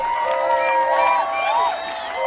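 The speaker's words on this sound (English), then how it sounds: "Murdoch blushed as everyone clapped." A crowd claps and cheers at once, with bright excited voices rising and falling over steady applause, close and lively throughout.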